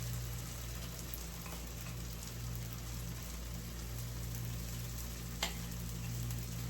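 Hot water cornbread frying in a skillet gives a faint, steady sizzle with a soft crackle throughout, and one sharp click near the end.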